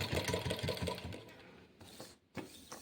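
A sewing machine runs a slow straight seam during a basic tailoring lesson, its needle chattering in a fast, even rhythm close by before easing off into quieter, uneven stitching and brief pauses.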